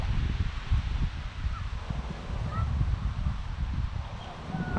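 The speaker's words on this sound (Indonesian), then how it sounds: "Anginnya juga kencang di sini" Strong outdoor wind buffets the microphone during a DJI Mavic Air 2 drone flight, producing a loud, continuous low rumble with gusty swells throughout.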